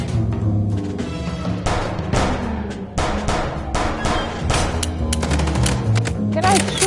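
Rapid gunfire bursts from the video game Chicken Police, dense repeated shots layered over a driving game soundtrack, with a player talking over the action.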